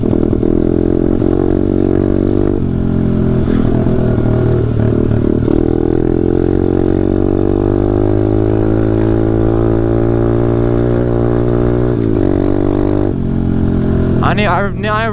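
A pit bike engine drones loud and steady while riding through weeds, its pitch rising and falling with throttle and a rough carburetor, with brief clatter near the end.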